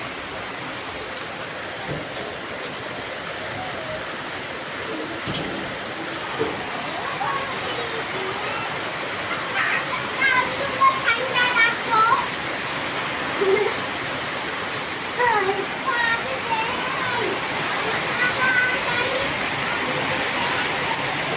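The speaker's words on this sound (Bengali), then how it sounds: "বৃষ্টির আওয়াজটা দেখেন মানে একদম রিয়েল বৃষ্টির আওয়াজ" Heavy rain pours steadily outdoors, falling on leaves and a roof in a dense unbroken hiss, with scattered sharper drips and a voice speaking over it.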